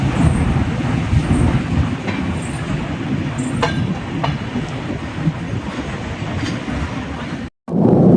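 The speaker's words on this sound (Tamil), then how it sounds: "Veeraval Trivandrum Central Express has arrived on platform" The Veraval–Thiruvananthapuram Express rolls loudly into a station platform nearby, a dense rumble with occasional metallic clicks and squeals, then cuts off abruptly near the end.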